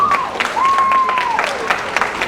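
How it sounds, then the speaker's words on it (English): Audience at a commemorative event clapping for first responders, a steady burst of applause with a thin whistle-like tone rising and falling over it. "And can we just give them a round of applause,"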